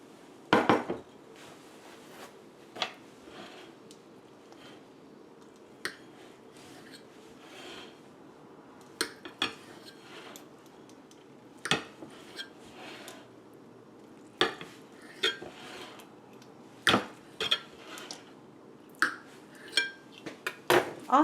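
A knife cuts a block of tofu into triangles on a cutting board for a vegan stir fry, giving scattered sharp taps and clacks of the blade against the board with quieter gaps in between, close up and without speech.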